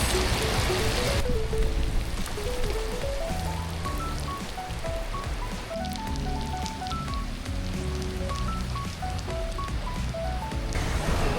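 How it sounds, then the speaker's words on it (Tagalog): Rain falling beside a pool in Thailand, a steady broadband patter and hiss mixed with louder background music playing a melody. "Umuulan."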